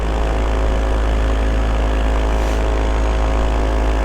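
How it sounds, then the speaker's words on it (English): A model aircraft with an electric engine and a chipped, shortened propeller flies close by, giving a loud, steady, unbroken propeller drone throughout. "We slapped the electric engine on there, chipped the propeller on the first attempt at taking off."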